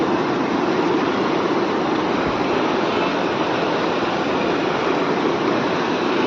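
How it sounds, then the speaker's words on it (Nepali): The flooded Bagmati river rushes past at Shivachowk in a swollen, turbulent state. Its steady, loud, broadband roar of churning water continues unbroken throughout, with no voices. "बागमती खोला"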